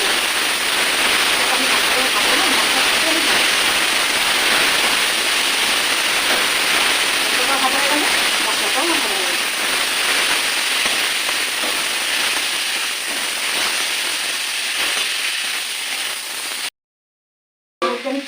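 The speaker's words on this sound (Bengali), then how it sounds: "এর সাথে মোচাগুলো দিয়ে আমি নাড়াচাড়া করব" Banana flower frying and being stirred in a pan with chili powder, a loud continuous close sizzle and crackle throughout, with faint scraping, ending in a brief silence.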